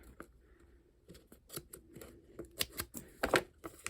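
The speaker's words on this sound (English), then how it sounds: "So I cut those off because there's no need to have that there." Scissors cut the flap off a paper envelope, a series of close, crisp snips and rustles that grow louder and busier toward the end.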